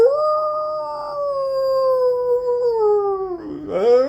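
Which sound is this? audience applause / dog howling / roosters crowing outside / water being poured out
dog howling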